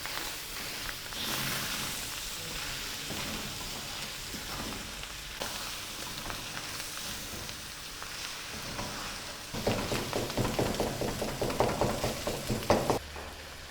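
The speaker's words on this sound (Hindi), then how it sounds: "टमाटर को भी हम कीमे के साथ 2 मिनट भूनेंगे।" Tomatoes frying with minced meat in a karahi, a dense continuous sizzle that swells louder toward the end as the mix is stirred and scraped.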